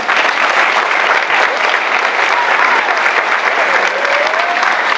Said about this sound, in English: Please give a nice round of applause to Mrs. Margaret Moss.